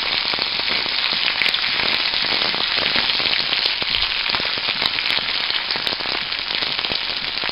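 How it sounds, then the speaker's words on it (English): Green chilies and garlic sauté in a hot pan with a loud, dense, continuous sizzle and scattered crackling pops, steady from start to end and with no voice. "So I'm going to add them together now. I'll just saute that."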